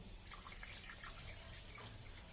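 Water runs and splashes steadily while rice is rinsed and the cloudy water poured off, prepared for making sweet Thai rice wine (sato); a continuous close, low-level wash of liquid with no talk.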